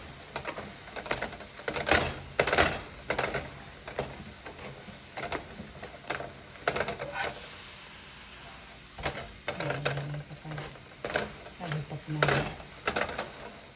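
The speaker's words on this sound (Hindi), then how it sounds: "इसलिए मैंने ये देसी घी डाला है। अच्छी तरह से इसे सेकना है।" Food roasting in desi ghee in a pan, stirred steadily, for a winter dish: repeated scraping strokes over a soft, continuous sizzle, close and moderately loud, with a few short pauses.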